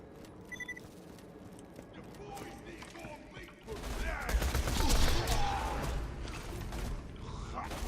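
Bone Shredder gun firing in the Tiny Tina DLC video game, a dense burst of rapid automatic gunfire and mechanical clatter that swells in the second half, with game effects and a voice underneath.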